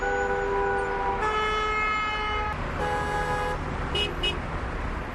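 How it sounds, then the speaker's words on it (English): Car horns honk in Beijing rush-hour traffic, several overlapping sustained toots and short blasts from nearby vehicles over a steady roar of street noise. "Horns honking, signaling the stress of rush hour"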